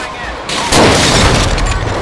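A loud explosion in GTA 5 around a military base with a light armored vehicle: a sudden booming blast lands after a brief lead-in and rolls on as a sustained roar of debris and noise.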